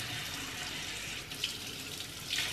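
Warm water runs from a sink tap in a home, a close and steady rushing hiss that stays even throughout, with no voices.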